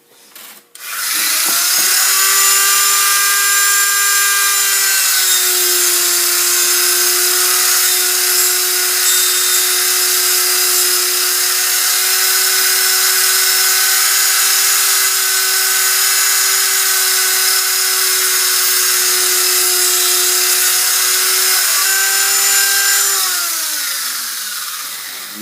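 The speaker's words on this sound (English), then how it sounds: "so I'm going to Dremel out this side." A Dremel rotary tool hollows out one side of a wooden topwater fishing lure half, screaming loudly and steadily for about twenty seconds. Its pitch dips slightly as it bites into the wood, then winds down at the end.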